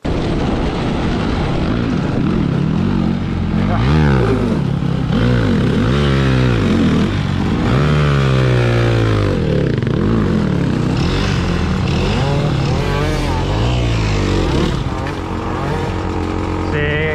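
A GasGas HS dirt bike engine revs hard and continuously in woodland, its pitch rising and falling through repeated throttle bursts, loud and close throughout.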